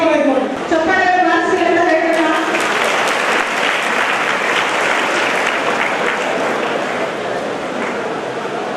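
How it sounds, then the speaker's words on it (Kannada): Audience applause at a stage event for an Uppar youth gathering in Gulbarga, as elders are seen off from the stage: a voice speaks briefly, then dense, steady clapping fills the rest, loud and close. "ನಿರ್ಗಮನ ಮಾಡಿ ಚಪ್ಪಾಳೆ"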